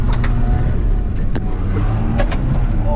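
An old first-generation 12-valve Cummins diesel truck on the move, its loud, low engine rumble steady and close throughout with a few brief knocks and rattles on top.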